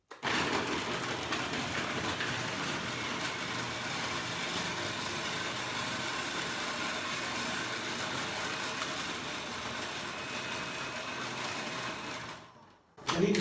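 A food processor blends frozen bananas into ice cream, a steady, fairly faint whirring grind running without a break for about twelve seconds before it cuts off abruptly.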